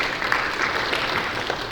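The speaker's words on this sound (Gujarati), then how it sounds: "આવો તાળી પાડીને આપણે તેમનો આવકાર કરીએ." A church congregation in a Gujarati church in Canada claps steadily to welcome a guest preacher, a brief dense wash of many hands at moderate loudness with no voices over it.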